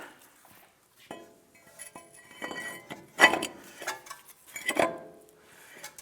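A metal brake rotor slid onto the front hub of a 2007-17 Jeep Wrangler in a garage, with a series of close metallic clinks and scrapes, the loudest knocks near the middle and end, and no talking.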